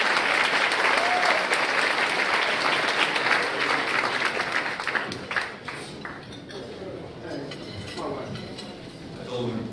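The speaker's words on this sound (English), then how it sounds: "Clap, people, clap, come on" An awards event audience breaks into loud applause that gradually thins and fades over several seconds, with scattered voices and crowd murmur under the clapping.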